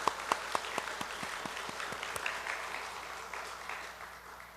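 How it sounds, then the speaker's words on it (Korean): A church congregation at a Sunday service applauds together in a big hall, a steady roomful of clapping with a few sharp claps standing out early, fading gradually over a few seconds. "지난 29년간 우리 성민교회와 함께 하여 주신 하나님의 은혜에 큰 박수로 우리 함께"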